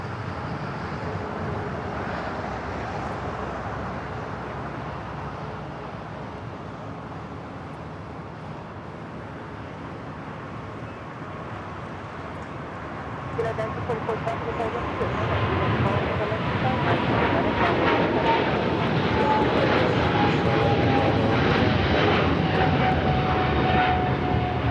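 An airliner rolls down runway 25 right, engine noise building sharply about halfway through into a loud, rising roar with a climbing whine, while indistinct radio-style talk sits in the background.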